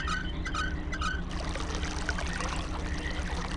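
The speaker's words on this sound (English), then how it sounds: "There's some water pouring into it from this pipe" Water pours from a pipe into a tank in the realMYST video game, a continuous splashing rush with a low rumble beneath and a few brief chirping tones at the start.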